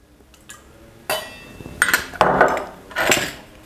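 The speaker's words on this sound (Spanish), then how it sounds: "lo primero, hielo a la coctelera, obviamente. Los cubos grandes." Large ice cubes tumble into a cocktail shaker, a few sharp clinks followed by bursts of rattling, clattering impacts close by, with no talking.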